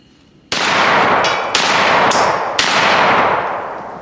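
A Mossberg 940 JM Pro semi-automatic shotgun fires outdoors, three loud blasts about a second apart, each followed by long rolling echo that fills the gaps.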